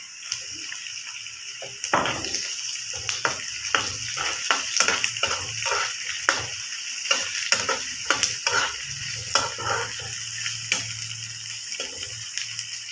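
Chopped tomato going into onions frying in oil in a pan, with steady close sizzling and repeated scraping stirs in an irregular rhythm, plus a brief water-like splash, no talk.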